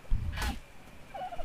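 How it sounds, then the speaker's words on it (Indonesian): A dodo bird in the video game Ark: Survival Evolved gives a short, gobbling fowl-like call over a low background rumble, then a faint warbling chirp follows a moment later. "Ada burung dodo cok"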